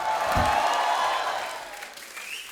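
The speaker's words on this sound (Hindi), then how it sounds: "आप सबकी जोरदार तालियों के बीच" A studio audience at a comedy talk show applauds as guests walk on. The clapping is a loud, dense wash that gradually fades over a couple of seconds.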